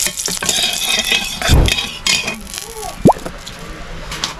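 Bay leaves and panch phoron crackle in hot mustard oil in a home kitchen, with stirring and a metal pan clatter, a brief louder sizzle burst midway and a sharp utensil knock near the end.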